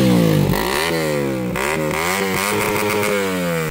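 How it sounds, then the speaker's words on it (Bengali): A Suzuki GSX-R motorcycle fitted with a new aftermarket exhaust revs hard and close, its engine note sweeping up and down through several throttle blips, loud and unbroken with no talk. "এক্সজস্টটার সাউন্ড কেমন"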